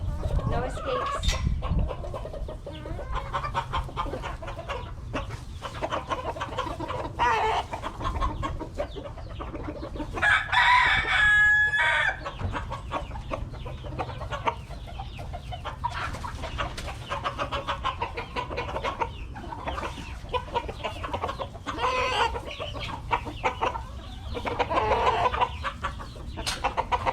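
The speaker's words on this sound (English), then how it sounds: "Now those are some happy chickens." A flock of backyard hens, including young chicks, clucking and squawking continuously while they feed on greens, with a rooster crowing near the middle and a person talking quietly at times.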